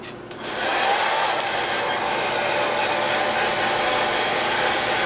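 Heat dryer blowing steadily on a model mask to dry acrylic paint, a loud continuous whooshing hiss that switches on in the first second and holds evenly throughout, with no talking.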